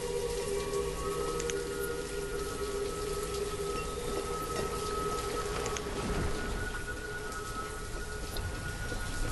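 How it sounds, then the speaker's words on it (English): Steady rain pours in the Banished city-building game, a dense continuous hiss with a faint background tone and no talk over it. "And it's raining again,"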